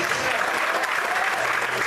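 Congregation applauding in a Portuguese-language church service: a short, dense, continuous patter of many hands clapping, even in loudness, with a faint murmur of voices beneath.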